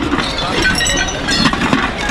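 Broken glass object clinking and shuffling among rubbish during dumpster diving, a dense, continuous clatter of glass and debris close by, with faint voices underneath.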